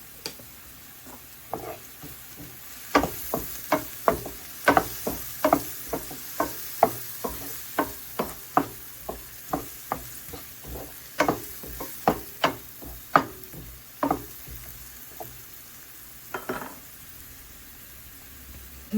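Onions softening in a pan with turmeric, a low sizzle under a long run of close, sharp spoon taps and scrapes against the metal, irregularly spaced and fairly loud.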